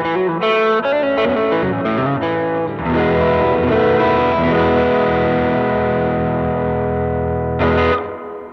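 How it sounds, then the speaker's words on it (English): An electric guitar played through a Voodoo Lab Sparkle Drive overdrive pedal, with a few quick picked notes followed by a loud, sustained overdriven chord that rings out with amp reverb before a final strum. "That is the Voodoo Lab Sparkle Drive."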